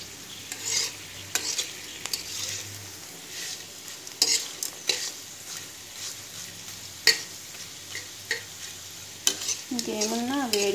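Potato fries sizzle in hot oil, a steady hiss broken by sharp clicks and scrapes of stirring, close by, with a short voice sound near the end.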